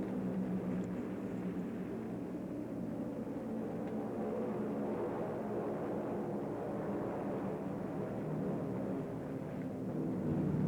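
A 1944 warplane approaching an aircraft carrier's stern to land with its wheels down, giving a steady, loud, droning engine roar that holds evenly throughout with no talking.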